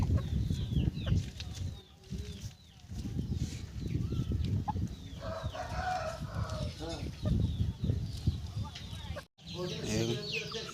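Roosters crow and chickens cluck in a busy poultry farm yard with quality fighter breeds, several birds at once, with people talking nearby throughout.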